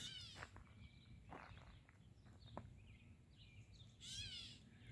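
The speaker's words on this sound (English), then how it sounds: "It sounds like a cat meowing. That's not it. That's not a cat. That's a gray mimic bird." Faint, distant mewing calls of a gray catbird, a few nasal cat-like notes separated by pauses, over quiet outdoor background.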